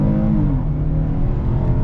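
2023 Kia Telluride SUV accelerating hard, a loud rising engine drone with a brief upshift-like pitch sweep early on, then a sustained, even roar from inside the cabin.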